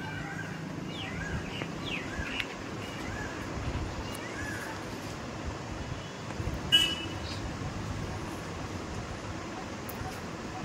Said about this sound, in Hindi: Traffic traffic and traffic and शोर, गाड़ियों की हॉर्न की आवाज़ निकल के अपने घर पहुंचे।